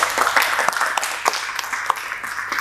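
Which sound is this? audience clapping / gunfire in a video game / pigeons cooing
audience clapping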